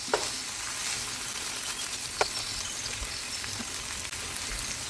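Shrimp stir-frying in plenty of oil in a pan gives a steady broadband sizzle with light crackles and a few sharper pops throughout, and nobody speaks.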